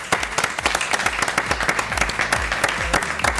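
Studio audience applause welcoming a guest onto a French regional TV programme set, with rhythmic, closely spaced claps layered over a fuller crowd clatter, loud and steady throughout.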